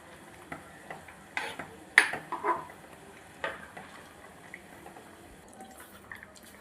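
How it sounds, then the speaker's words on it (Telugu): Tamarind pulp squeezed in water and poured into an okra and raw prawn curry, giving irregular drips, splashes and wet squelches, close and fairly quiet, with no talk. "ఇదిగోండి చింతపండు పులుసు పిసికి పోస్తున్నాను"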